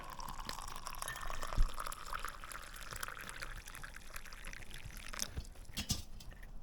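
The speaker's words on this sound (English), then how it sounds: "Forgot to pour my tea." Tea pours quietly in a steady low stream, with a few soft clinks and taps near the end.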